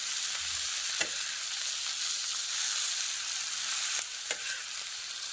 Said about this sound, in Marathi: थोडी छान परतून घ्यायची